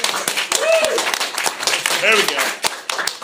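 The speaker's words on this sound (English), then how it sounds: "Then the whole audience clapped." An audience claps in a short burst of scattered applause, heard close, with a voice talking over it.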